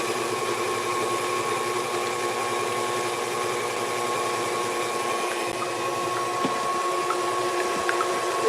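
A loud electric mixer whips egg whites for macarons, a steady close motor whine holding unbroken for the whole stretch with only slight variation.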